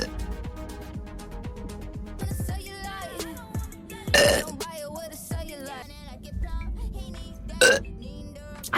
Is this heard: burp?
yes